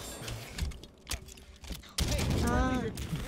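Gunfire aimed at a Pelican dropship in Halo 5: Guardians comes as a quick burst of clattering shots with a harsh, loud blast at the midpoint, over game noise and faint voices.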